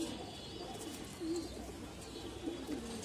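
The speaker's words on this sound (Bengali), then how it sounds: "কালো গলা প্যানেলের একটি কবুতর আপনারা দেখছেন।" A black-necked racing pigeon gives low, soft cooing calls, a few faint rounded coos rising out of a quiet room hum, close by but gentle.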